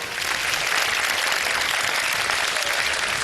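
Steady, dense applause from a television studio audience for a famous Pakistani qawwali singer, filling the whole stretch at an even level with no pauses or speech.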